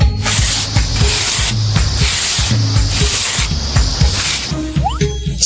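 A snake hisses in long, breathy, spray-like bursts that pulse on and off, loud and near, over a continuous music bed.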